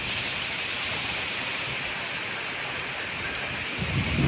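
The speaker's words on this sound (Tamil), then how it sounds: "காற்று அடிக்கிறது வந்து அடங்கலை" Strong wind from Cyclone Fengal roars steadily around a rooftop garden, a dense constant rush with a louder gust building at the end.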